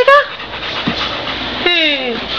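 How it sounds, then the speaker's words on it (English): A dog gives a couple of high, thin whimpering whines, one at the start and a longer falling one later, over soft breathy background sound, close to the listener. "Is that your doggy?"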